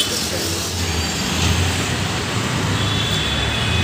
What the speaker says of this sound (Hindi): ट्रैफिक खुल चुका है, तो सभी आ जा रहे हैं